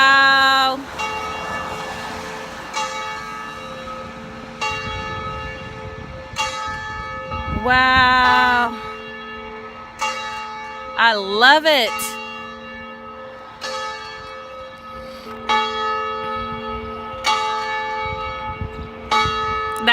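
Church bells ring in a slow, resonant sequence of struck tones with long ringing harmonics, while a person briefly exclaims in delight over them.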